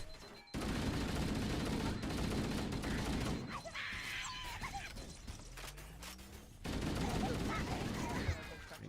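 Halo: Combat Evolved gunfire rattles in loud, dense sustained bursts, breaking off briefly midway before the shooting resumes just as heavily.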